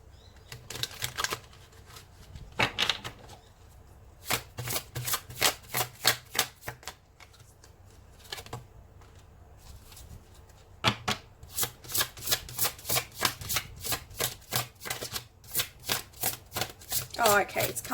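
Tarot cards are shuffled close up in quick, dry riffling bursts, with short pauses between bursts and a long fast run near the end, soft and intimate in a quiet room.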